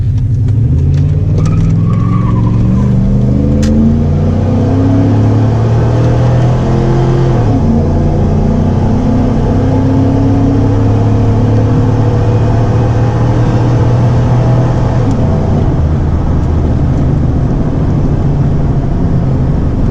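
A loud truck exhaust, a Flowmaster on a 1998 Dodge, roars as the engine climbs through the revs, shifts, and keeps pulling hard under sustained acceleration, close and continuous.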